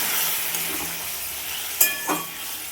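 Hot water poured into sambar vegetables that are frying in a pan gives a steady, close sizzling hiss, with a couple of sharper splashy bursts toward the end and no talking.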